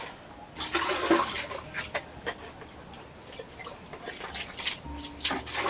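Rainwater drips from roof leaks into catch containers indoors, making scattered, irregular ticks and plinks of varying loudness over a low background, with no talking.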